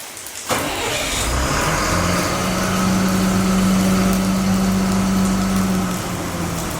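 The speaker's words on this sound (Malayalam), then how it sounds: "ലൈലാൻഡ് സ്റ്റാർട്ടാക്കുമ്പോൾ സൗണ്ട് ഒരു രക്ഷയില്ലല്ലേ." A Leyland truck's diesel engine cranks and catches at about half a second, then settles into a loud, steady idle with a sustained low drone that runs close by to the end, no voices present.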